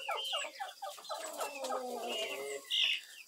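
Chickens cluck in a run of short, rising and falling calls, fairly close and moderately loud, with a sharper squawk near the end and no talking.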